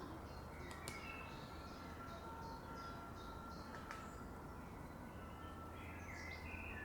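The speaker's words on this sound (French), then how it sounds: "De ma fenêtre, les oiseaux." Birds chirp and call outside a city window, short high twitters scattered over a steady low urban rumble of traffic.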